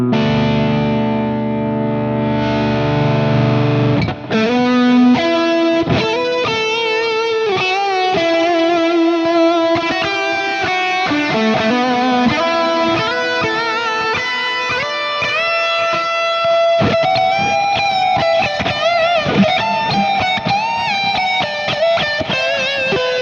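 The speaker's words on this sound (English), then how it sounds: "So from clean to overdriven to a lead, all on that one sound just by working the volume knob on the guitar." An electric guitar lead through a Fractal amp preset, the hot overdriven tone starting from a held chord and moving into a busy, continuous run of singing, sustained lead notes at steady loudness.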